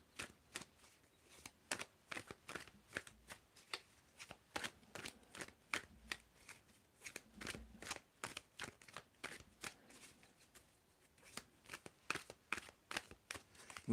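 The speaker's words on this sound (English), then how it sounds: "You can tell me when do I need to stop shuffling." Tarot cards being shuffled by hand close up, a series of crisp riffling bursts repeating irregularly with short pauses between them, quiet and alone without talking.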